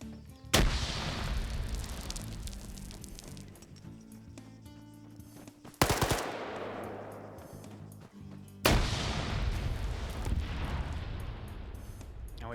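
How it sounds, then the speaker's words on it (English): Grenades and RPGs firing and blowing up in a competitive video game: three heavy blasts land near 0.5, 6 and 9 seconds, each followed by a rumbling tail, with crackling battle noise filling the gaps and no talk. "And we've got some RPGs firing out here."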